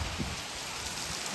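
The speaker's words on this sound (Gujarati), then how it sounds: "જો આ વરસાદ ચાલુ છે બમ ભમાટ." Steady heavy monsoon rain pours down, a dense continuous hiss of drops on surfaces filling the whole moment, with no voices.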